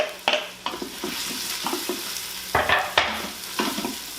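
Garlic sizzling in hot oil in a slow cooker pot while being stirred, a steady close frying hiss broken by repeated scraping strokes of the spoon against the pot.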